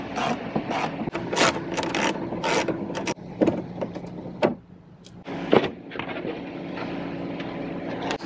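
A hand ratchet works 10mm bolts loose from the shroud of a 12 volt van air conditioning unit, giving quick clicking bursts close by, broken by short pauses and faint handling noises.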